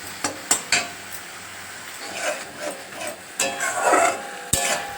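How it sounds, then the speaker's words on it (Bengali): Spices including Kashmiri chilli powder frying in oil in a pan, with scraping and stirring against the pan, sharp clinks of a utensil, and a soft sizzle that swells and fades between strokes. "মশলা একটু ভাজা ভাজা হয়ে আসছে"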